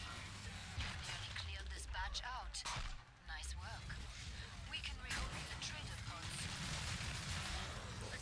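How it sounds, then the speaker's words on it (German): Dense bursts of gunfire in the zombie shooter Killing Floor 2, rapid shots and impacts running almost continuously at loud level, mixed with game effects and brief pauses. "Kann ruhig mal ein bisschen rumschießen."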